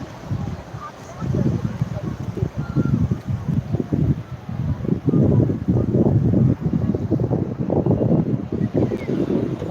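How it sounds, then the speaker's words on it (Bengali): A light sea breeze on Digha beach buffets the microphone in uneven low gusts that grow steadier and louder throughout. "হালকা হাওয়াও রয়েছে"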